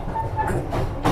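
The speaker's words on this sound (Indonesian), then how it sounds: "kereta api Erlangga yang saya naiki baru saja berangkat dari stasiun Cikampek" The Airlangga passenger train pulls out of Cikampek station, heard from inside the carriage as a steady low rumble and rolling rail noise, fairly loud and continuous, with a brief hiss near the end.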